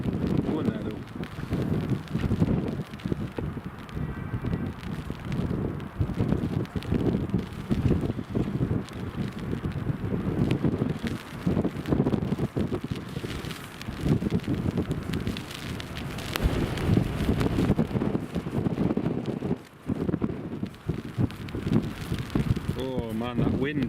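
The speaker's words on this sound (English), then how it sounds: "Oh man, that wind, look at the wind on the bushes over there, it's picking up really strong now." Strong storm wind during Storm Ashley at Newcastle Airport roars continuously and buffets the microphone in heavy gusts, with a dense rumbling rush that barely lets up.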